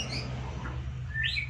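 Caged white-rumped shamas chirp over a steady low hum. The calls are a few brief, fairly faint tweets, with a brighter chirp near the end.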